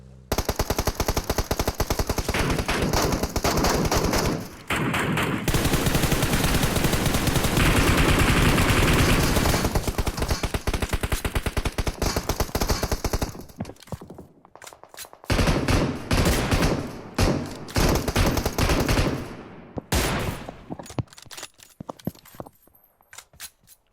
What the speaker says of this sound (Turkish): Adamları o kadar vurdum ki.